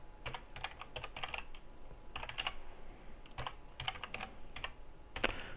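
Rapid clatter of typing on a computer keyboard in irregular bursts with short pauses, close and clear with no talking.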